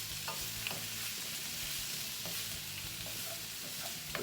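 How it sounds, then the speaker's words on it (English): Potatoes stirred with spices in ghee, a steady close sizzle with soft scraping stirs and light clinks at irregular intervals, fairly quiet and continuous, with no speech. "We want to coat these potatoes really good with all these spices."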